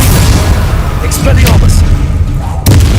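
Confringo and Conspulso spell blasts go off during Hogwarts Legacy combat, with several short booming bursts over a continuous low rumble of game sound.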